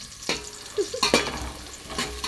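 Green chillies hit hot oil in a frying pan while khichdi cooks, giving a steady hiss punctuated by a few sharp clinks and scrapes of stirring.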